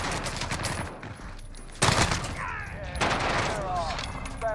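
Rapid amp pistol gunfire in the Warzone video game, loud close bursts of quick shots that cut in sharply, mixed with other game effects and a voice talking.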